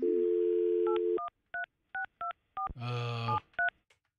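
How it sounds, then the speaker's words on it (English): Telephone keypad tones ring out while a phone call is placed: a steady dial tone, then a quick series of short, crisp touch-tone beeps, a brief burst of a different tone, and one final beep, close and clear. "Obviously, I'm making a phone call here"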